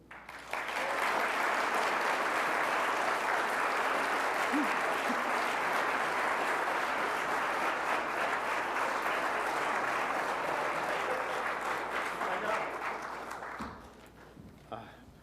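A large audience at the Norman B. Leventhal Excellence in City Building Awards gives a sustained, dense round of applause for an honoree, steady and full for about thirteen seconds before dying away abruptly.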